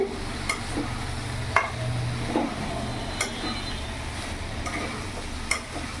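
Pumpkin pieces are stirred around a pan for a vegetarian ghonto, with a spoon scraping and clinking every second or so over a soft, continuous sizzle, close up and without any voices.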